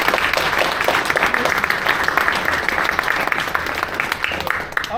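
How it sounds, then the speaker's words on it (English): Sustained applause from a theatre audience at a scratch night of new performances, dense continuous clapping that stays loud throughout and tapers slightly at the end. "Another round of applause, please,"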